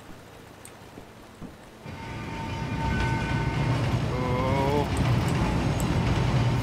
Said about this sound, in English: Of course a train is coming.